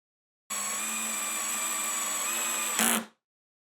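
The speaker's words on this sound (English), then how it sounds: "Then all you got to do is drive some screws." A power drill drives screws through melamine into a table saw extension wing, a steady high-pitched whine of about two and a half seconds that rises into a brief harsher burst before stopping, loud and close with no talk.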